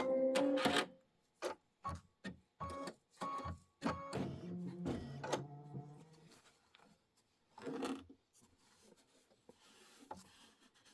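An embroidery machine stitching an outline on a quilting project, a series of short clicking mechanical bursts with brief gaps, then quieter intermittent whirring, fairly soft and close.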